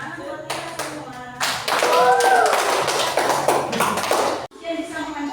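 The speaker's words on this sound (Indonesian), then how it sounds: "Tepuk tangan buat kita semua" An audience clapping together in a classroom or seminar, a burst of applause of a few seconds that rises sharply, then cuts off, with talk before and after.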